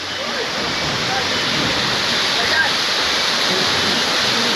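At the base of a waterfall in Ecuador, loud, constant roaring and splashing water fills the scene from close range, a dense, steady rush with no breaks.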